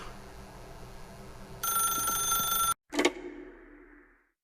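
A telephone rings in The Stanley Parable, a bright electronic bell burst lasting about a second over a faint ambient hum, then cutting off abruptly before a short clunk, like the handset being lifted, with a fading tail.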